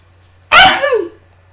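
A single loud sneeze bursts out close by after a moment of silence, with a sharp onset and a short trailing tail.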